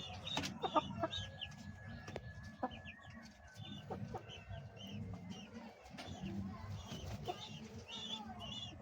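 Several Australorp hens cluck softly and intermittently over a low, steady background murmur, with faint bird chirps scattered throughout.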